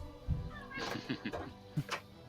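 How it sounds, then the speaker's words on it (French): A cat meows several times in short, close calls of rising and falling pitch, spaced through a couple of seconds at low volume. "Ah, les chats."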